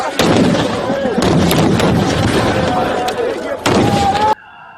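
Haryana police fire guns, tear gas and rubber bullets at a farmers' protest, loud rapid cracks and booms over a dense roar with voices mixed in, ending abruptly.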